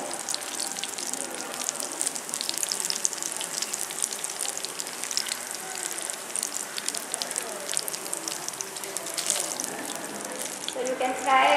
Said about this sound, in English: So you can fry about 7 to 8 pakoras at one time.